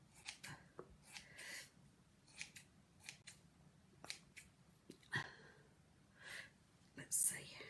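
Small scissors snip at the fluffy beard of a handmade Christmas gnome, giving a handful of quiet, close cuts spaced irregularly, with soft handling rustles between them.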